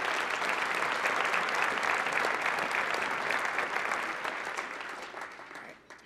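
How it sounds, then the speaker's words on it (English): An audience at an evening gathering gives the candidates a round of applause. The clapping is dense and sustained, then gradually thins and fades toward the end. "Please give all of our candidates a round of applause."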